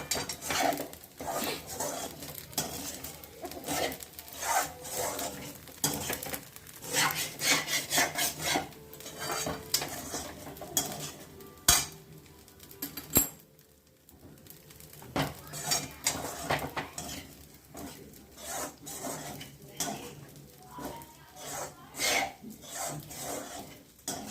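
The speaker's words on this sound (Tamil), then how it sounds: "நல்லா நாலஞ்சு தடவை நல்லா பரட்டி பரட்டி முட்டா போல் மிக்ஸ் பண்ணிவிடுங்க" Beans and lentil usili being stirred and tossed in a metal pan, with steady scraping and clinking of a spoon against the pan in an irregular rhythm, close and moderately loud throughout, with a couple of sharper knocks partway through.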